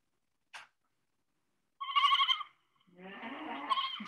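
Children sing and bleat like goats in a church children's worship song, with a short bleat-like call, then a longer harmonic cry and a wavering bleat a moment later, voices imitating the animal rather than a real goat.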